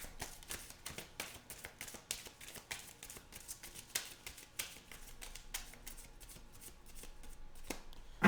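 A deck of oracle cards is shuffled by hand, producing quick, dense riffling and tapping bursts in a steady rhythm, close and moderately quiet, with no talking.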